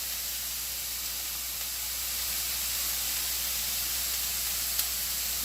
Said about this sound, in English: So I want to cook the bacon in this pan